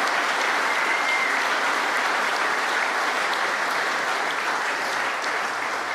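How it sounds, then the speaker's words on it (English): Audience applause at a craftsmanship and design awards ceremony in Goldsmiths' Hall, a thick, loud, continuous wash of many hands clapping that holds steady throughout. "could we give them a round of applause as well?"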